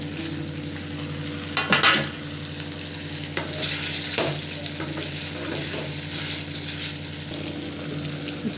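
Tomatoes sizzle and fry in a pan for chamagadda (taro root) tamarind curry, with steady broadband crackle and a few louder scraping stirs of a spoon, close and with no talking.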